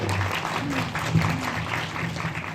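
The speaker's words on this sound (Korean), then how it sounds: "박수 한번 부탁드립니다." Moderate, steady clapping from a cinema audience at a guest-visit screening of the Korean film Sister Yoojung, with a low steady hum beneath the continuous applause.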